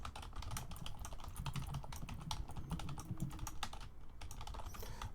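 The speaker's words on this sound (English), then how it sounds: "I don't know why I'm typing this." Rapid typing on a computer keyboard during a live character design class, with continuous clattering keystrokes at close range and steady room noise underneath, no speech.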